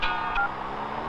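Telephone keypad tones beep twice in quick succession, clear and close, then fade into a soft hum.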